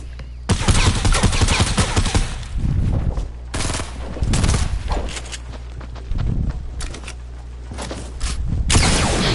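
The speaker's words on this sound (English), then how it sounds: "Yo, someone stop the double barrels." Double-barrel shotguns fire in a video game in loud, heavy blasts that come in clustered volleys. Short pauses break up the shots, and near-continuous shooting returns at the end.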